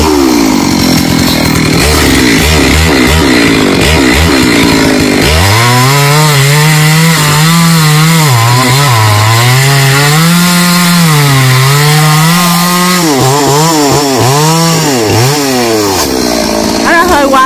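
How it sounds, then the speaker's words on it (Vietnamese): A chainsaw runs steadily and loud, its pitch rising and dipping as it cuts the trunk of a large Bần tree, with a brief idling stretch at the start. "Ta cũng hòa mới cưa cái miệng ở phía dưới để cho nó không bị cấn."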